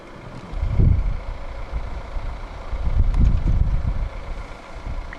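A 2016 Volvo V70 2.0 D3 150 SE Lux diesel engine starting up: low, close rumbling with a surge near the start and another swell a couple of seconds later, then settling into a steady idle.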